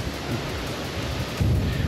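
Cold, gusty wind blowing by the water during a catfish fishing outing, a steady broadband rush with low buffeting that swells louder near the end, with no speech.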